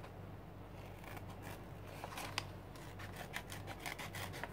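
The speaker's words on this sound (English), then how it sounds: "I'm using a nail scissor." Curved nail scissors snip through paper, cutting out a shape for fall leaves in an art journal, a quiet series of short crisp rasping cuts that grow more frequent toward the end, close and without talk.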